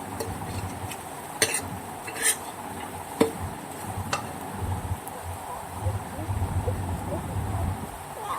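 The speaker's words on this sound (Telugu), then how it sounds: "కారం అంతా ముక్కలకు పట్టేదాకా కలుపుకుంటూ ఉండాలి." A spoon stirs stuffed bitter gourd coated in chili powder in a pan, giving soft scraping and clinks, with a few sharper metal taps on the pan over a low steady background.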